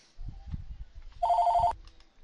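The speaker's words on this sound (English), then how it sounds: "The phone was ringing." A telephone bell rings in a single trilling burst of about half a second, clear and close in an otherwise quiet room, with soft low thumps before and after.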